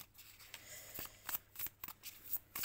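Tarot cards being shuffled by hand, a close, soft run of riffling and flicking card sounds with short pauses between bursts, alone without talk.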